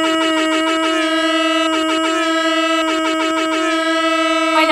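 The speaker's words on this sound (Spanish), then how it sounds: "¡Poneme la bocina, ponémela!" A car horn in the Texas Chainsaw Massacre video game blares in a steady, sustained tone that breaks into quick rhythmic pulses of honking, loud and close, with no talk over it.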